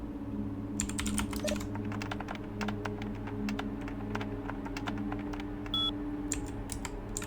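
Quick, crisp key presses tap out a short burst of typing on a computer keyboard in the video game Vampire: The Masquerade Bloodlines, clicks spread unevenly over a steady low electrical hum with no talking.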